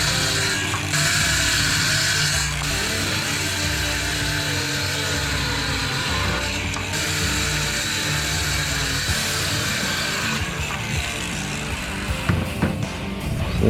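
A continuous, loud mechanical whirring with ratcheting texture, like a power drill driving screws into wooden platform pieces for a jon boat trolling motor mount, runs steadily without pause and no speech.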